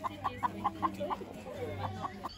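A chicken held in someone's hands on a camping trip gives a run of short, rhythmic clucks, about ten in quick succession, close and moderately loud over a low steady hum.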